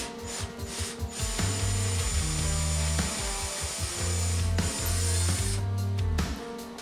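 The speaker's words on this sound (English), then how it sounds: "Time to drill in the bridge ground." A drill bores a hole in a custom guitar body for the bridge ground wire, producing a loud, steady whirring grind with surging and easing pitch and brief pauses across several seconds.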